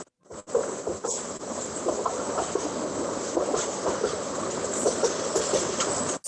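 A train rolls past close by in a steady, continuous rumble with faint rhythmic clatter, holding at an even level for about six seconds before cutting off.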